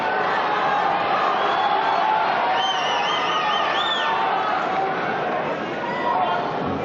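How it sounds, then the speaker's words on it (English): Spectators at a Stephen Hendry versus Mark Williams snooker match make a loud, continuous wash of crowd noise, with murmuring, chatter and scattered whoops and a few rising whistles blending into one dense roar. "It's difficult to hear over the crowd here."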